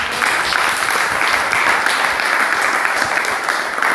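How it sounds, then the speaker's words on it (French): A crowd at a church gathering applauds for wives who pray, a loud continuous patter of many hands clapping evenly for several seconds, no speech heard. "Applaudissons pour nos femmes qui prient pour nous alors que nous sommes ici."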